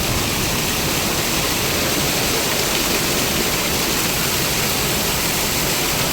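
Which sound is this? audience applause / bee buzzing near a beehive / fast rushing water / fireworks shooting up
fast rushing water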